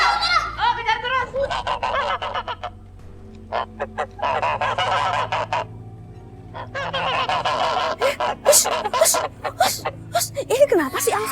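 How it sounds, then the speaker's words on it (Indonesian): Goose honking, loud repeated honks in irregular bursts, close by and mixed with people talking throughout. "Ini kenapa sih angsa kayak gitu terus?"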